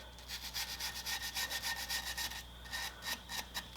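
A brush scrubs rust and caked brake dust off a BMW F30/F80 brake rotor in quick, rhythmic rasping strokes that pause briefly partway through, close and alone.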